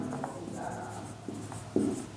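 Pen scratching across paper during a math lesson, steady soft strokes close to the mic with a few sharper taps, quiet and alone without talk.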